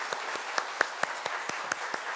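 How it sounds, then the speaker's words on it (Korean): Church congregation clapping in a steady, fairly sparse rhythm of separate hand claps, moderately quiet in a large room, with no talk over it. "우리 함께 우리 감사의 마음으로 박수하면서 축복하겠습니다"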